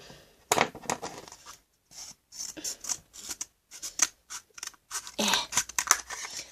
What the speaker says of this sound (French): Vous allez le couper en deux avec votre ciseau.